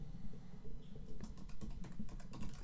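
Computer keyboard typing out a command for a Retropie setup, a short run of quick clicking keystrokes, close and fairly faint, with no talking.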